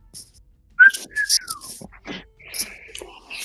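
A person casually whistles a short, sliding tune up close during a tabletop role-playing game session, followed by soft murmuring and faint background talk.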